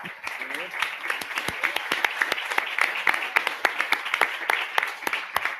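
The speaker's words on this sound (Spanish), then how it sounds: "¡Aplausos!" An audience at a live session claps in a light, scattered round of applause with distinct individual claps, while voices are heard faintly underneath.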